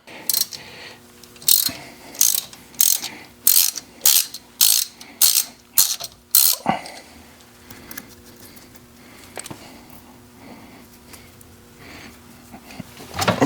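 A ratchet wrench loosening a 10mm bolt holding the anti-lock brake sensor on a 2006 Toyota Matrix, heard as about ten loud, evenly spaced bursts of clicking close up, followed by quieter handling noises.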